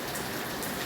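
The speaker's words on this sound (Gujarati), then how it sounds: "જો બજારનો વરસાદ જોઈ લ્યો કેવો પડે છે" Heavy rain pours onto a market street in Jamnagar, a dense, even roar of falling water with no pauses, loud and close.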